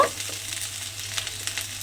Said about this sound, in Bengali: এবার আলুটাকে একটু লাল করে ভেজে নেব।